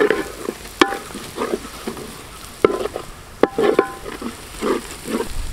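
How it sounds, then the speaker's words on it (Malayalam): Green chillies sautéing with onions in a hot pan, loud sizzling broken by sharp scrapes and clacks of a spatula stirring at irregular intervals, close up with no talk. "നമുക്ക് നന്നായിട്ട് ഈ പച്ചമുളക് ഒന്ന് വഴറ്റിയെടുക്കണം."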